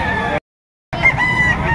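A white Kelso rooster from Biboy lines crows loudly and close by in two bursts split by a brief silent gap, the harsh, strained call ringing out with no talk over it.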